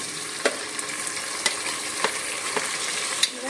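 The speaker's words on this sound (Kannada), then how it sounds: "ಇವಾಗ ನೋಡಿ ಈರುಳ್ಳಿ ಫ್ರೈ ಆಗ್ತಾ ಇದೆ, ಸ್ವಲ್ಪ ಕಂದು ಬಣ್ಣ ಬಂದಿದೆ." Onions frying in a pan for veg pulao, a steady soft sizzle with a few sharp utensil taps and stirring clicks, close and alone.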